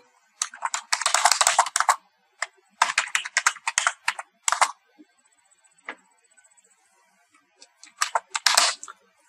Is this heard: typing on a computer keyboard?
yes